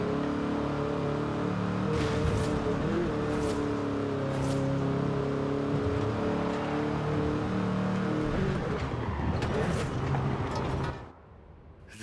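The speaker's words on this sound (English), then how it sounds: "none are so timeless and unchanged as the Bocho" A Volkswagen Beetle (Vocho) drives in Forza Horizon 5, a steady buzzing engine drone held for about eleven seconds with faint clicks, then cutting off abruptly into near silence.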